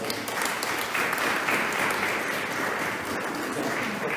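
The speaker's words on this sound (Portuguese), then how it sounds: "acho que uma salva de palmas também não fica mal." A church congregation applauds during a Sunday Mass, moderately loud, continuous clapping that fills the space evenly without any talk.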